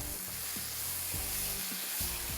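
Food is mixed in a pan of hot oil, giving a dense, continuous sizzle with soft rhythmic stirring strokes throughout, close and even in loudness.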